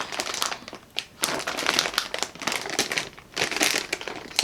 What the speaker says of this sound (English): looks like a Ziploc bag, so let's open this up and take a look inside and see what we got